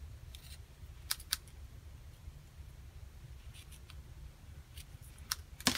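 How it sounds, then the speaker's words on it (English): Scissors snip through acetate card in a few sharp, quiet cuts spaced across a hushed room, a pair near the start and a cluster near the end. "these aren't my best scissors"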